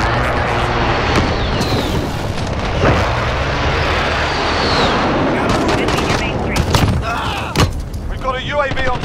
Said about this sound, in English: Be advised, friendly precision airstrike inbound.